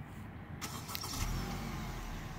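A 2017 Honda Civic EX starts remotely by key fob, a brief whir of ignition followed by a low, steady engine idle heard from outside the car, moderately quiet with no talking.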